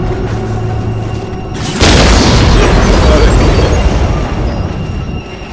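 Whirlwind artillery tank missile battery firing in Dawn of War, a sudden loud booming roar that kicks in about two seconds in and then rumbles on steadily to the end, heavy and close.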